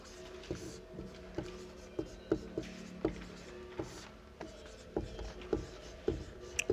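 Chalk or pen writing on a board in a Hindi technical class on resistivity, giving a series of short scratchy strokes and taps in an irregular rhythm, fairly close, with a faint room hum beneath.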